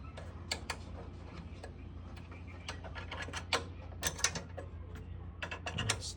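A wrench ratchets in quick clicking bursts as a nut is tightened down on a 1984 skid steer, close and fairly steady, with a low background hum and no talk.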